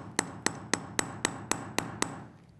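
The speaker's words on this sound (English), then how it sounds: "I'm just going to hammer it" Eight evenly spaced hammer strikes flatten jewelry wire for a necklace with pinch bails and buttons, each a sharp, bright metallic tap, close and fairly loud, no voices.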